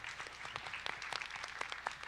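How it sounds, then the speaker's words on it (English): A candidate forum audience applauds, the claps quiet and distant, forming a dense patter that runs on without pause and with no voices over it. "Please hold your applause until everybody has spoken, and then you can clap to your heart's content."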